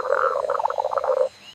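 A frog croaks in a quick run of bubbly, rattling calls lasting over a second, loud and close, then stopping abruptly.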